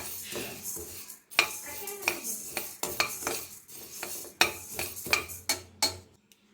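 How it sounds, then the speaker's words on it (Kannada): Fenugreek seeds dry-roasting in a pan without oil for a Brahmin-style raw mango pickle, with repeated close metal scrapes and clinks of a spoon stirring against the pan over faint crackling. "ಸ್ವಲ್ಪ ಚಟಪಟ ಅಂತ ಶಬ್ದನೂ ಬರ್ತಾ ಇದೆ"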